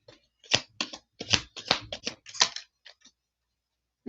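Tarot cards are shuffled in a run of quick, papery riffles and taps that come in close bursts before trailing off into silence.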